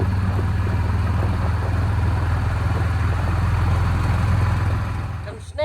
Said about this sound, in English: Dad's in the tractor, ready to go.